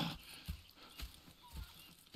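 Horses in Red Dead Redemption 2 give a run of soft clip-clop hoofbeats at an even walking rhythm, fairly close, over a low game ambience.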